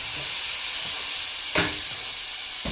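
Tomatoes sauté with translucent onion and garlic in a pan, making a soft continuous sizzle and hiss with a couple of brief utensil clatters near the end.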